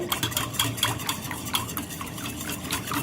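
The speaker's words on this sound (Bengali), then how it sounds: "আর সেটাকে ভালোভাবে হ্যান্ড উইস্ক দিয়ে মিক্স করব।" A hand whisk beats eggs into milk in a bowl, fast steady rhythmic clicking and swishing against the sides, close and alone.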